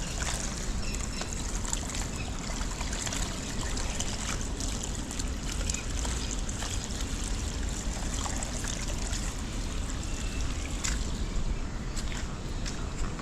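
Overflow from a rooftop water tank pours down and splashes onto the ground below, a continuous close trickling and splattering rush that holds steady throughout with no talk.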